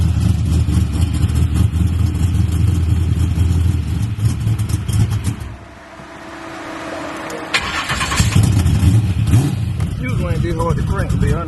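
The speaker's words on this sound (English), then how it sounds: "This one is small block nitrous. Let's fire it up." A small-block nitrous car engine cranks, fires and revs loudly up close, dropping briefly to a low idle before surging again into hard revs.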